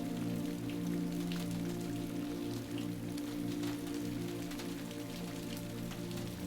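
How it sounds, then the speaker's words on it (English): Steady rain falls on a surface at night, a dense, even patter of drops with occasional louder splashes, continuous and close with no voices. "Enjoying the sounds of rain"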